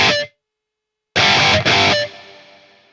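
Two bursts of heavily distorted electric guitar, a short hit then a longer chord, its reverb tail fading out after.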